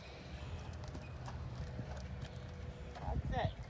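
Clip-clop of a horse's hooves during a riding lesson, steady rhythmic footfalls over a low rumble, with an instructor's voice talking throughout and a brief whinny-like sound near the end.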